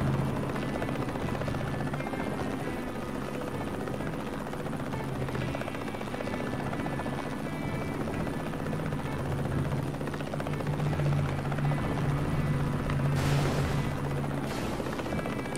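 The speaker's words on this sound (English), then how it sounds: "Yeah, this is a pretty good little attack chopper. I like this thing. It's kind of quick." An attack helicopter in the video game Mercenaries 2: World in Flames drones steadily at close range, its rotor and engine hum continuous and loud throughout, with a few brief sharper bursts near the end.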